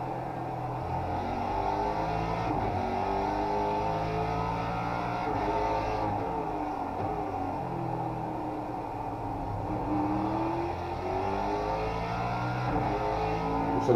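Ford GT3 race car engine in the iRacing sim, droning steadily with rising and falling rev sweeps and gear changes throughout, loud and continuous with no talking.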